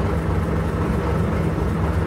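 A diesel train approaching at a heritage railway gala, a loud continuous low engine rumble and drone, steady and close throughout.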